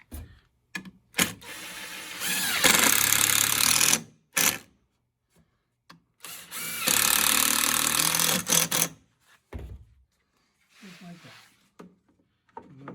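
A power driver sends a screw into a wooden Adirondack chair kit in two sustained whirring runs, each a few seconds long and close by, separated by brief spoken comments.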